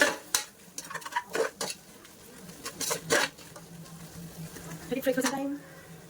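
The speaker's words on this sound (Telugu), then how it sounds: "చికెన్ని కొంచెం బాగా ఫ్రై అవనిద్దాం" Chicken pieces with salt fry in a pressure cooker for biryani while a spoon scrapes and clatters against the metal in irregular bursts, with quieter stretches between the stirring strokes.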